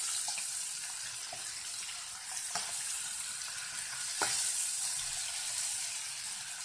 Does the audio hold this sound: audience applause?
no